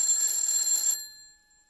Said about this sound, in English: I ring it every time I want to get Magellan's attention.